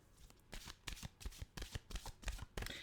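A deck of mantra cards is shuffled close by in soft, quiet bursts of riffling and flapping, repeated in an uneven rhythm with no talk.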